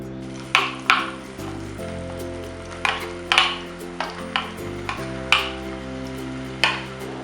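Ground masala paste fries in two spoons of hot oil in a pan, a low steady sizzle under a string of sharp utensil scrapes and taps against the pan, close and clear, no voices.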